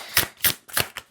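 Tarot cards shuffled by hand in four quick, crisp riffling bursts, close and fairly loud, with brief pauses between them.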